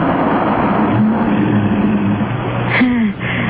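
A car in a radio drama sound effect drives past with a steady mid-pitched engine hum and road noise. The engine note shifts a little as the car moves, and a brief low voice is heard near the end.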